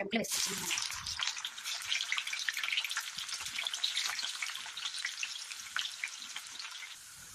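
Bitter gourd slices fry in oil with a bright, crackling sizzle and scattered popping, close and steady after a brief clatter at the start, with no one talking.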